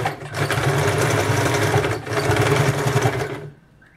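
A sewing machine stitches folded blouse cloth in steady, loud, continuous runs, with a brief pause near the middle before it stops and falls quiet at the end.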